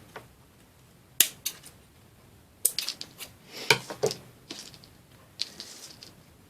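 Sharp snips of scissors cutting through stiff plastic stems, several quick irregular clicks spaced apart against a quiet background.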